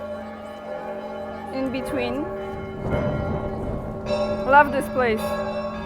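Church bells ringing outdoors on a Sunday, sustained tonal strikes and long ringing hum layered under a person speaking, fairly faint and steady.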